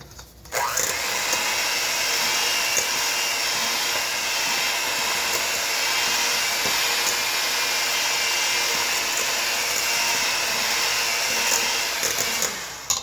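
An electric mixer creams butter and sugar for a maple walnut cake batter, a continuous close whirring drone that starts abruptly and holds steady for several seconds before cutting off.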